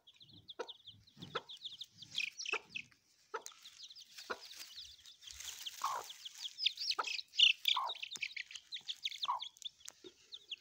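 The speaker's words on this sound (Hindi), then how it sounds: "ये प्योर देसी मुर्गी है।" A desi hen clucks among her chicks, her low repeated clucks mixed with a steady stream of high, thin peeping from the chicks close by, with no talking.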